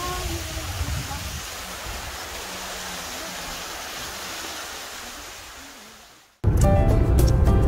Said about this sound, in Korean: 구절산이 사랑하는 아홉폭포입니다.